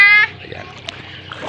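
Water splashing as someone washes in the sea at an island shore, a single loud close splash followed by quieter sloshing, with a voice speaking briefly at the start.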